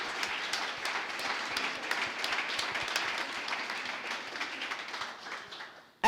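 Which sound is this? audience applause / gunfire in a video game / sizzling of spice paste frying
audience applause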